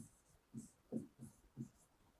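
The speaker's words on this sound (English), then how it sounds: "We will write." Pen strokes on paper during a science lesson make a run of soft, faint scratches, about five short strokes in a loose rhythm, close and quiet.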